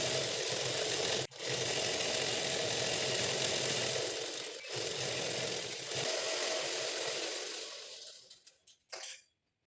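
A sewing machine runs steadily while stitching the sleeve joins and side seams of a dress top being altered, a continuous close mechanical whir with two brief pauses before it slows and stops in short bursts.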